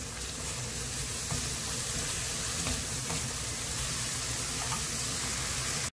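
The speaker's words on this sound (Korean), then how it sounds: "양념을 넣고 볶아주세요. 대불에서 볶아줍니다." Squid with seasoning stir-fries in a pan over high heat, giving a loud, dense, continuous sizzle that holds steady from start to finish, with faint stirring just audible beneath it.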